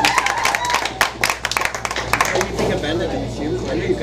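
Audience at a live jazz concert applauding, a dense patter of clapping through most of the stretch with loud bursts near the start, mixed with crowd noise and a speaking voice.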